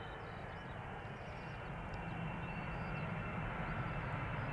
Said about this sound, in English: This is Air Canada Flight 808, arrival from Toronto, Canada, by the way. And that's a 777-200 long range